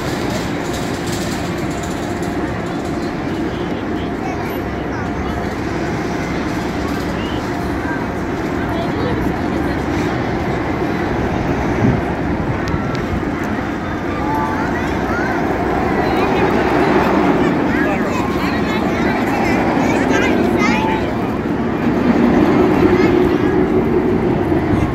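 The Runaway Mine Train roller coaster at Six Flags Great Adventure rumbles steadily along its track for the whole stretch, with a continuous rolling clatter and people's voices mixed in.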